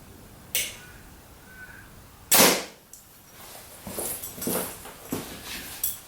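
Arrow loosed from an Elite Kure compound bow, heard as one sharp, loud broadband crack with a short tail, followed by fainter thuds and rustles, with no talk.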